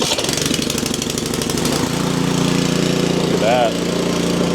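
A PowerSmart snow blower engine runs steadily and loudly up close, a continuous mechanical drone after a brief rougher start, with a short spoken remark over it.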